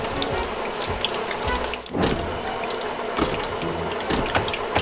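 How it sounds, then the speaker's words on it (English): Flour-coated chicken drumsticks frying in hot oil, a continuous crackling sizzle with scattered pops and bursts, moderately quiet and alone. "This hot oil will make them crispy and tender."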